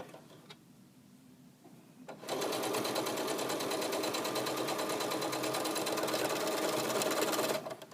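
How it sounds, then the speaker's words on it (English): Sewing machine stitching the sleeve of a doll's shirt, a faint start then a steady, loud, rapid mechanical whir that runs continuously for several seconds before stopping abruptly. "Now I can pivot and sew the sleeve"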